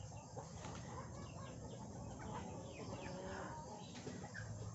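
Healthy native chickens at a clean breeder farm, clucking steadily in a low, continuous flock chatter with occasional wing flaps, moderately distant and even in level throughout.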